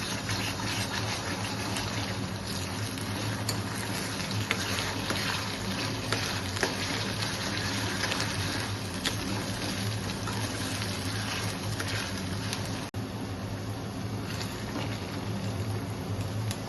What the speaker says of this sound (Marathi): यामध्ये मी आलं लसूणची पेस्ट घालते। ही पेस्ट आपल्याला 2 मिनिटं परतून घ्यायची आहे।